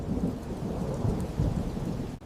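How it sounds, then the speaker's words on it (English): Thunder rumbles low and steady beneath a dense wash of heavy rain, moderately loud and continuous over a brief stretch, with no voices. "Heavy rain is coming, kids."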